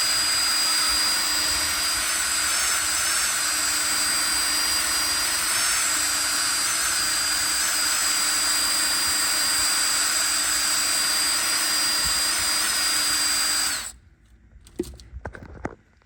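A polishing machine running a pad over piano black interior plastic, producing a continuous loud high-pitched whir with slight wavering that cuts off near the end, followed by a few faint clicks.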